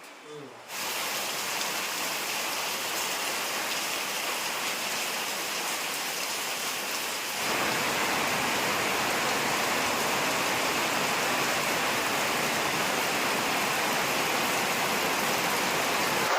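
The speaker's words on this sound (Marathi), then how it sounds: "पाऊस पडतोय तो नुसता काय थांबतच नाही" Heavy rain pours down in a dense, unbroken hiss, getting even stronger partway through and continuing steadily to the end.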